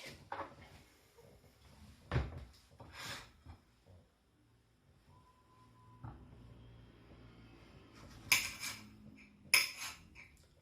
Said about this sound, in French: vous êtes en mesure de couper efficacement une tomate